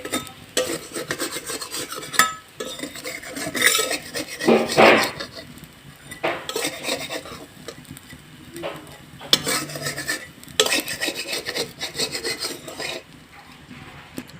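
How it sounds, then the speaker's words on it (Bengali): A spatula scrapes and lifts chhita pitha rice pancakes from an oiled kadai, giving rough, rasping scrapes in uneven bursts with a faint sizzle underneath, heard up close. "এখন আমি এইভাবে একটা খুন্তির সাহায্যে এইভাবে উঠিয়ে নেব।"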